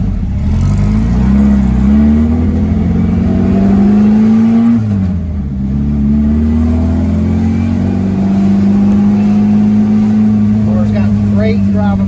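VW Super Beetle fitted with Holley Sniper EFI driving along a back road, its air-cooled engine droning loudly and steadily, pitch rising and falling with gear changes and easing off briefly midway; heard from inside the car.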